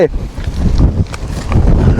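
Strong wind on a rocky mountain hiking trail at Khao San An in Tak, Thailand, with light rain falling, buffets the microphone in loud, uneven gusts throughout.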